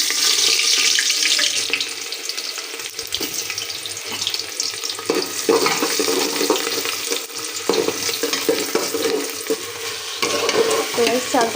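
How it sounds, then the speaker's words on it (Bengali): Rice for khichuri is stirred and fried in a cooking pot with whole garam masala: a close, continuous scrape of the spoon through the grains over a crackling sizzle. "তো গাইস চালটা ভালো করে ভেজে নেব।"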